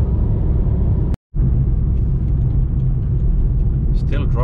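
A car with a diesel particulate filter fault drives along the road, a steady loud low engine and tyre rumble with a brief cut in the middle.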